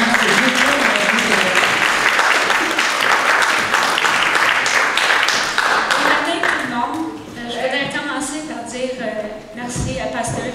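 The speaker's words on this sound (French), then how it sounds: "donnons une bonne main d'applaudissement." A congregation at a church service gives sustained, dense applause that fills the room before gradually thinning out, with a voice talking underneath as it fades.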